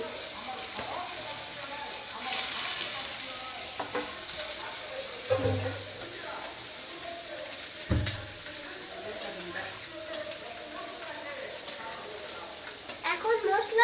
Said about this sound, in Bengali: এখানে মাছ ভেজে নিচ্ছি